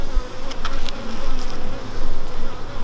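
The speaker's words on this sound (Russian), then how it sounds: "Пчелы ведут себя спокойно." Honeybees buzzing steadily around an apiary hive whose colony has laying worker bees, a dense, continuous hum close by with no voices.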